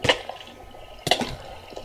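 Water in a video game: two brief splashes about a second apart, close and fairly quiet, each fading quickly.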